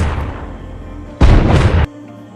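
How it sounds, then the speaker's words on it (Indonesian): A gunshot fires in a hospital ICU scene of an action film, landing as a single heavy boom about halfway through, loud and bassy, over a low background soundtrack. "Kemudian menembak."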